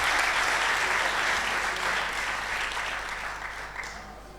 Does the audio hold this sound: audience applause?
yes